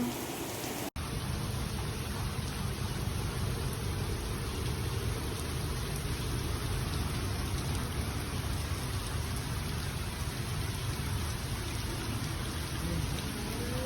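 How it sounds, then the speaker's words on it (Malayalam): Heavy rain pours down in Sharjah, a dense, loud, unbroken roar of water after a sharp click at the start, steady and enveloping from start to finish with no voices. "അപ്പുറത്തേക്ക് ഇപ്പുറത്തേക്കും കാണാൻ പറ്റാത്ത സൈസ് മഴ. ഇതാണ് ഷാർജ മജാസ് മഴ."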